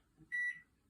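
A single sharp electronic beep sounds from a microwave oven as it is started, short and clear against a quiet room with faint low background hum.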